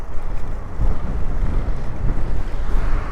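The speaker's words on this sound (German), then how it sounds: "aber ich habe ganz schlimmen Gegenwind, schon sturmartig." Strong, near-stormy headwind buffeting a cyclist riding along the sea on the Sicilian coast between Syracuse and Pozzallo, loud gusty wind roar across the microphone with pulsing surges, no talking.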